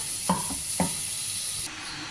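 Mushroom soup with Quaker oats stirred in a pot, two soft scraping strokes of a spoon over a low steady hiss, close and fairly quiet.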